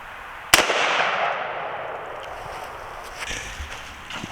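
A single loud, sharp report of a 7.62x39 green tip round hitting a blacksmith-made steel body armor plate outdoors, followed by a long fading echo and a few faint knocks afterward.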